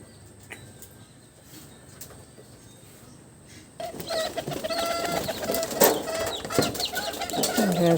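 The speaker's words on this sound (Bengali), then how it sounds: "সব কবুতর একসাথে চলে আসবে এখন" Low, soft cooing from a flock of pigeons gathering to be fed, growing busier and louder partway through with fluttering and scattered bird calls close by.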